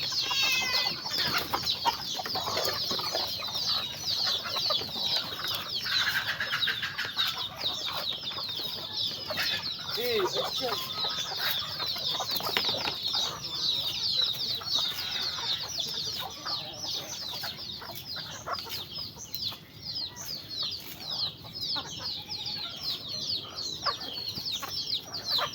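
Chickens cluck and squawk continuously at close range, many birds overlapping in a busy, restless chorus.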